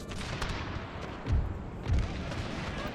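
Volleys of musket gunfire in the Total War 30 Years War game, Habsburg campaign, fired onto pike squares, with two heavier booming bursts rising over a constant crackle of distant battle noise.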